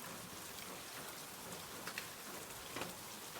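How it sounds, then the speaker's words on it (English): Steady rain falls outside a cabin on a misty night, a soft, even hiss with a few faint drop ticks, quiet and continuous with no voices. "Now only rain speaks."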